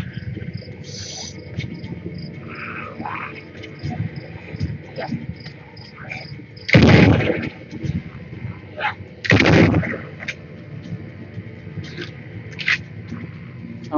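Two loud bursts of video-game gunfire from shooting enemies in a survival shooter stand out against a steady insect-like background chirr, with faint scattered pops and clicks in between.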